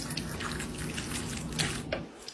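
Liquid gelatin mixture pours into a bowl, a faint, close splashing trickle with small drip-like pops throughout.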